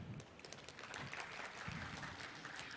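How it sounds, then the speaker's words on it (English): Faint, steady applause from an audience at a women-in-tech startup pitch competition, a soft continuous patter of many hands with no voices over it. "So please, round of applause."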